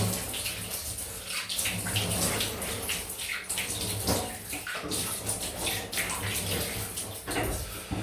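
Water runs steadily from a tap for a cold rinse after a wet shave, a continuous splashing hiss with small irregular spatters as hands move through the stream, close and unbroken.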